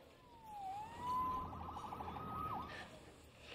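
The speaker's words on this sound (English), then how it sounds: "Saved by the siren." A police siren in the video game Marvel's Spider-Man Remastered on PS5 wails and sweeps up and down in pitch, fairly close, over a low background rumble, sustained throughout.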